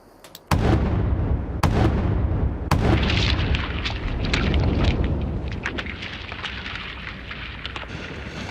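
A rock-blasting explosion in a steep alpine valley, set off with an ignition key: a sudden heavy boom followed by further sharp cracks and a long, rumbling roar of falling rock that slowly fades, with no talking.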